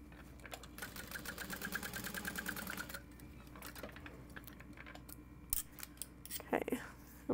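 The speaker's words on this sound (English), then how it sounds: "We're gonna snip into the V as close to the stitching as we can, and we're gonna trim away the seam allowance" Scissors snip into a V and trim away fabric seam allowance close to the stitching, a run of quick, close, soft cutting clicks that stops, then a few isolated sharper snips follow.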